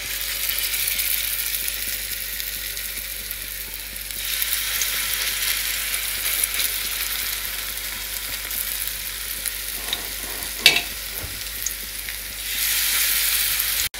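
Zucchini okoy fritters frying in hot oil, a loud steady sizzle throughout with a brief clatter of a utensil near the end and no talking.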